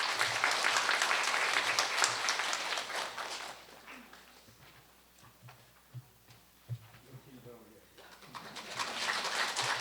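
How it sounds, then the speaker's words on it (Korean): Audience applause greeting an honorary sociology professor at an academic seminar, a loud burst of clapping that fades in the middle, with scattered softer sounds, then swells again near the end. "박수로 맞아주시기 바랍니다."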